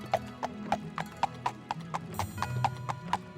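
Horse hooves clip-clopping in the Elder Scrolls 2 video game, a steady even trot of about a dozen crisp hoofbeats, close and clear, with no talk over them.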